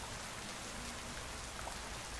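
Even rainfall drums softly on a surface, a continuous close shower of drops with a few slightly louder splashes and no speech.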